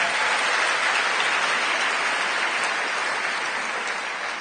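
A church congregation claps in a sustained, even burst of applause, dense and close, with no distinct shouts standing out.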